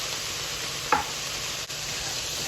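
Garlic being stirred into softening vegetables in a pot over a steady, close frying sizzle, with a single brief scrape of a spoon partway through and no talking.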